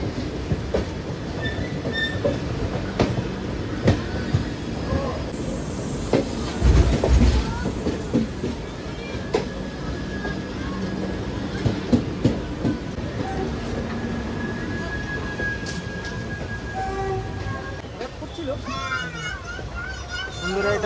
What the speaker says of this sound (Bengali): এটা হচ্ছে রাজধানী এক্সপ্রেস,